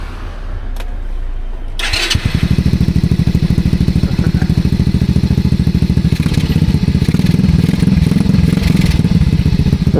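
A motorcycle engine kicks into life after a couple of seconds of quiet and keeps running with a steady, loud, close-up rapid pulsing idle, with no talk over it.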